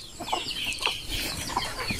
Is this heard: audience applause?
no